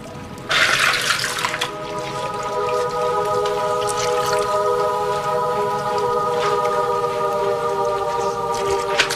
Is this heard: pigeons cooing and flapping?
no